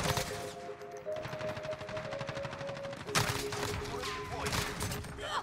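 M4A1 rifle fire in the Modern Warfare video game, rapid automatic bursts crackling loud and close with a brief pause, over game effects and someone talking.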